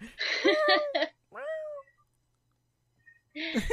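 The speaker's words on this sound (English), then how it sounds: "I just heard the cat moaning in the background." A cat meows repeatedly nearby, drawn-out and plaintive, with short silent gaps between the cries.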